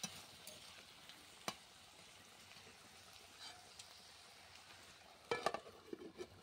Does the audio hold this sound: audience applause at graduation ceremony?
no